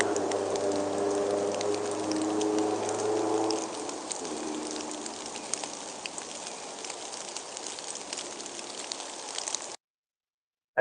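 Steady rain patters on a car, a dense broadband hiss of drops holding even for about ten seconds before cutting to silence near the end, with a low hum fading out partway through.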